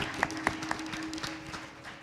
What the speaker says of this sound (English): Let us give a round of applause to Canada,